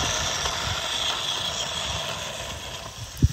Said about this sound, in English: Stepney puffed away as quickly as he could